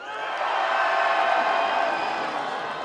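Concert crowd on the right side of an outdoor festival stage cheering and shouting together, a steady loud roar of massed voices with whoops, sustained throughout.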